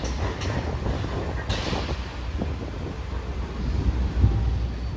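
A Hiroshima Electric Railway streetcar passes at Hiroshima Station, a low rumbling roll with wind buffeting the microphone and no talk.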